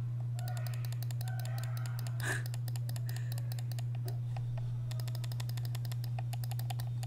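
Rapid light clicks from the buttons of a SteelSeries Rival 110 gaming mouse, coming in quick uneven bursts and short pauses over a steady low electrical hum, close and fairly quiet.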